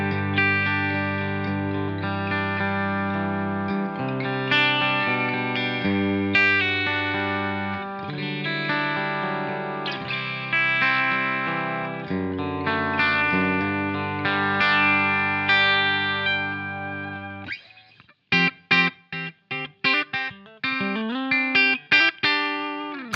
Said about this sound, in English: the bridge pickup on my Revstar 620 sounds like this through this clean